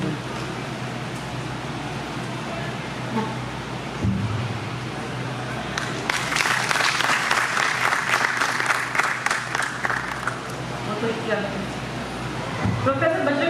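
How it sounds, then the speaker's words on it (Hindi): At a Hindi literature gathering, the audience bursts into applause to welcome guests. A hum of room noise comes first, then loud clapping from many people swells midway, fades, and returns briefly at the close. "तालियों के साथ सबका स्वागत करें।"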